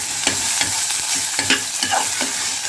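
Long-sliced onion frying in a small amount of oil, crackling sizzle punctuated by regular spatula scrapes and stirs, close up and without speech.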